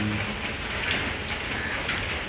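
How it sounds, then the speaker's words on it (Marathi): Continuous heavy rain roars evenly, a dense wash of patter with no pauses or voices. "ते फुल ऑन पाऊस पडतो"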